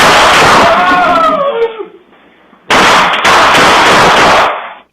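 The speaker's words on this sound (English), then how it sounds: "Dozens of gunshots ring out at a Rockford home." Loud bursts of rapid gunfire, dozens of shots fired at a home in Rockford, crackle in two long volleys separated by a short lull, harsh and close, ending abruptly.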